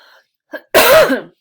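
A single loud, harsh cough bursts out after a couple of faint breathy sounds.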